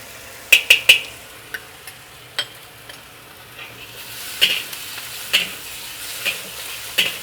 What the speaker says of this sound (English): Fry this chee sauce a little bit.